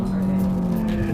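Inside the cabin of a Renault Clio RS, the engine drones with its R-Sound effect switched on, a steady synthesized racing-engine hum filling the car under a faint voice.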